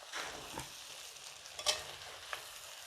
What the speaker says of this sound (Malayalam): നമുക്ക് കുറച്ച് കറിവേപ്പിലയും കൂടി ഇട്ട് കൊടുക്കാവേ ഇളക്കി കൊടുക്കാം